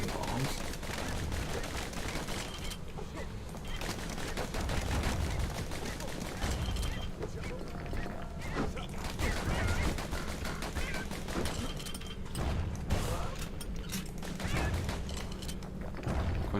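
Repeated bomb blasts and gunfire-like bursts from the video game Bastion fill the scene, dense and continuous, with booms layered over game music and effects throughout.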